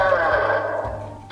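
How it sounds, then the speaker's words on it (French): A horse neigh from an electronic board game plays in a stable scene, a single drawn-out whinny that fills the whole moment at close range, with a small click near the end. "C'est le cheval."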